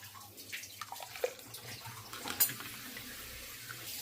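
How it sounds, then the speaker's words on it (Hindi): Water poured into ground cumin powder in a kitchen, a soft, quiet trickle and splash with a few faint drips, heard alone without talk. "इसी में ये पानी डाल रही हूँ।"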